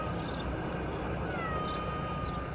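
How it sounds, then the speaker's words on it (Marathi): A cat in Spain meows faintly and steadily over a constant background hum, with no talking. "इथे एक मांजर आले, स्पेनचं मांजर दाखवतो तुम्हाला."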